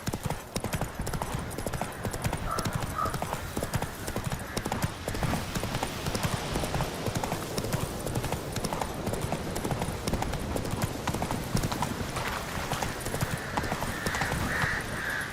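Horse hooves galloping steadily in The Witcher 3: Wild Hunt, a continuous rhythmic clip-clop at moderate level with some wind and game ambience, and a voice briefly urging the horse on.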